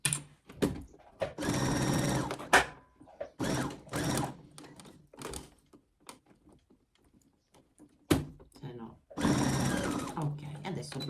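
Domestic sewing machine stitching through fabric for a 3D fabric Christmas house, running in several loud bursts of steady whirring that stop and restart, with someone talking in the pauses between.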